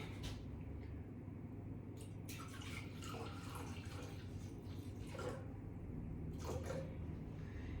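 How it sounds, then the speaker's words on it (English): Vinegar is poured into a jar of feral radish for pickling, making a faint, steady liquid trickle over a low hum with a few brief sharper splashes. "I will put maybe 200 mils of the vinegar in there."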